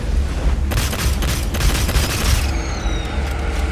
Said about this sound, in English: Launching the head cannon.